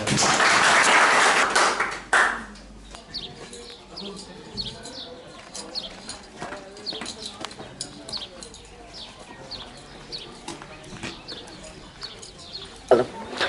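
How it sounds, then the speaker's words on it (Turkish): Applause for medal-winning village school students at a ceremony in Adana, a burst of clapping at the start that quickly thins into scattered claps and faint chatter, with a louder clap near the end. "Alkışlayalım arkadaşlar."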